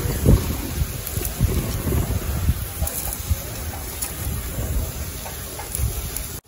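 Steady gusting wind buffets the microphone with a low, roaring rumble throughout, rising and falling in strength.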